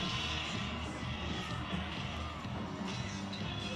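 A large high school football crowd at a district championship game between Charles Page and Sapulpa keeps up a steady, distant wash of cheering and shouting, continuous and moderately loud throughout.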